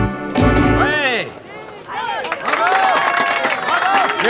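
Scattered clapping and crowd noise from an audience, rising after a brief pause and continuing at moderate loudness while a voice talks over it.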